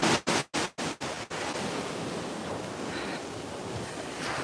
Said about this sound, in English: Man, this is exciting to see such big waves.